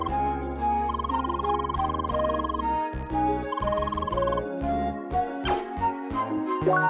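A phone rings in the video game CrossCode, a bright electronic ringtone repeating in short pulsing bursts over game music, ending in a few choppier tones, with no speech.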